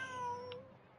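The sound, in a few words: cat meowing in video game Genshin Impact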